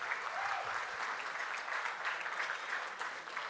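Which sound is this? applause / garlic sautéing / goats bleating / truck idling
applause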